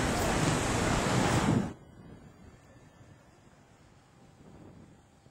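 Surf at Can Pastilla beach in Palma de Mallorca, a loud rushing wash of waves and wind buffeting the microphone that cuts off abruptly, leaving a faint distant murmur of sea.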